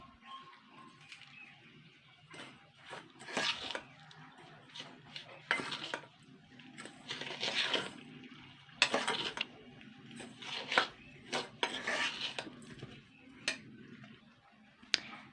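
A spoon stirs a semolina, flour and milk batter in a bowl, making soft, irregular scraping and clinking strokes that come in uneven bursts, fairly quiet and close.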